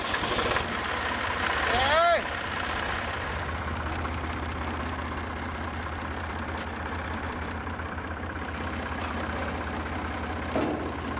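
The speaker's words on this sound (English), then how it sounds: "So he's giving his old tractor a try." A 40-year-old tractor engine idles with a steady low rumble and rhythmic knocking throughout, after a brief rising whine near the start.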